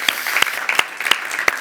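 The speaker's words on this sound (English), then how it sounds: "Give him a round of applause, Mr. Quentin Wilson." Applause at an EV Roadshow event in London greets TV presenter Quentin Wilson, with a brief run of close, crisp claps falling in a quick, uneven rhythm.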